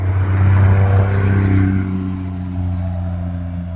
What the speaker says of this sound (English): going to wait till this car passes